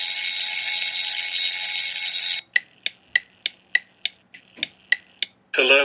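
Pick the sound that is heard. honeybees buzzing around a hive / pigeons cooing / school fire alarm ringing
school fire alarm ringing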